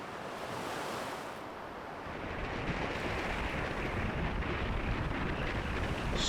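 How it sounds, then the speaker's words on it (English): Storm surf crashing on a beach at South Hampton, a continuous loud roar of breaking waves mixed with heavy wind buffeting the microphone, swelling stronger partway through. "Waves crashing in on the beach."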